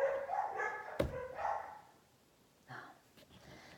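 A pet dog barks and yips indoors, with a few short, sharp barks and whimpery sounds near the start, then quieter breathy noises and a softer bark later, close to the microphone.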